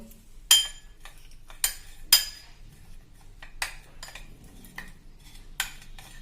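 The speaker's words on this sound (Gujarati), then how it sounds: "હવે આપણે આ બધું મિક્સ કરી લેશું સરસ એકદમ" A spoon clinks and scrapes against a bowl while kachori spice filling with coriander leaves is mixed, giving several sharp metallic taps spaced irregularly over quiet stirring, close and fairly loud.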